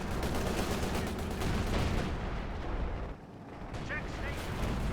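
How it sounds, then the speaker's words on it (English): Creeping artillery barrage in a competitive real-time strategy match, a dense, continuous rumble of overlapping booms with a brief dip midway before the pounding resumes, loud and sustained. "This creeping barrage though."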